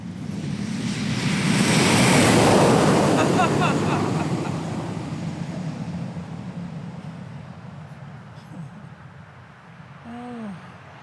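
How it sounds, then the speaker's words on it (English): Wind rushing past a Tesla Cybertruck on the move, a loud broadband roar that swells, then settles into a steadier rush, with a brief tonal whine near the end. "if you could hear the wind rushing in front of something, that's really the only sound"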